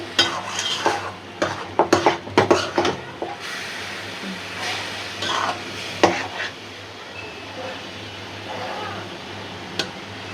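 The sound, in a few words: frying greens with hilsa fish in a pan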